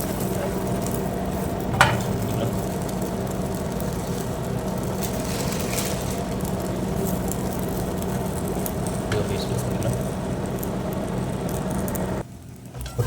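Roast chicken cooking in a pan with a light splash of oil, giving a steady, close crackle and hiss that runs continuously and cuts off near the end.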